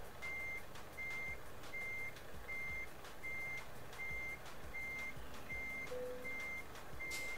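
A truck reversing in Euro Truck Simulator 2, its backup alarm beeping in an even, regular rhythm of about ten tones over a constant diesel engine rumble, with one brief hiss near the end.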